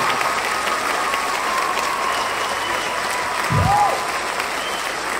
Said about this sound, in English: I'd like to ask for a round of applause for Dr. Joseph McNamara